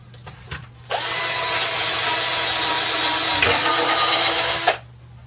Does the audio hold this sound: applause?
no